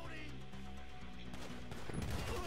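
Gunfire in GTA V gameplay: a dense, rattling stream of shots under a steady loud backdrop of game sound, with a sharper burst near the end.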